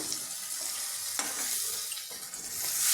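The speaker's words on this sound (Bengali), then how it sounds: "সব দিয়ে আবার মশলা কষাচ্ছি একটু বেসন দিয়ে দিলাম" Spices and gram flour being stirred in a hot pan for a potato dal with fennel, ginger and garam masala paste, giving a soft, steady sizzle with faint scraping strokes throughout.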